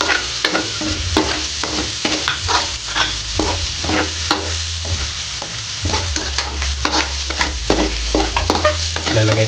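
Onions sauté in hot oil with whole peppercorns and garlic already golden, a close, loud crackling sizzle broken again and again by sharp stirring scrapes of a utensil against the pan.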